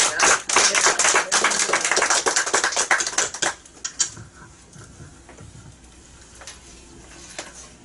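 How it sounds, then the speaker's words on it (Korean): Applause from a church congregation during a worship service, a burst of dense clapping that fades out partway through, leaving a quieter room with scattered taps. "박수를 드리겠습니다"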